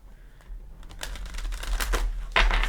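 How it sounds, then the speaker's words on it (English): An oracle card deck, a Mother Mary deck, is shuffled by hand, giving soft papery riffles and flicks that build into a louder burst near the end, with no speech. "Give it a couple shuffles."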